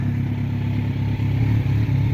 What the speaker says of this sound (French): qu'est-ce que tu viens foutre là avec une moto?